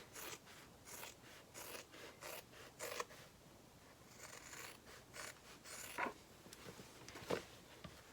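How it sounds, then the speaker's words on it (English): Scissors trimming the fabric seam allowance on a sewing project: repeated close, soft snipping cuts in a fairly even rhythm, followed by a few sharper snips, with no voices. "I'm just going to trim my seam allowance"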